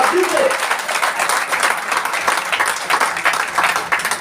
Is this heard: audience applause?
yes